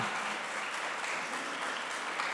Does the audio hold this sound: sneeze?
no